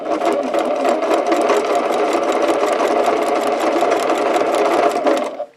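A sewing machine runs steadily, stitching over a glued stacked seam on a quilt, with a fast, even mechanical chatter that stays loud and close, alone, before stopping abruptly at the end.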